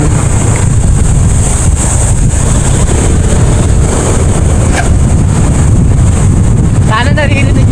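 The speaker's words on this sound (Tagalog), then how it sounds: "malamig na hangin." Cold wind buffets a microphone aboard a moving boat, a loud constant roar over an engine rumble and splashing water, with a faint voice briefly in the background.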